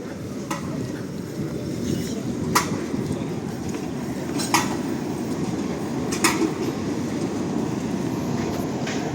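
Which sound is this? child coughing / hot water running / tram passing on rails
tram passing on rails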